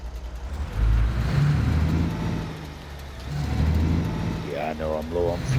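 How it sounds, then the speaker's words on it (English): A truck's engine approaches on a road in a PS5 truck-driving game set in Alaska, a low rumbling drone that swells and fades. Someone talks over it. "a truck coming."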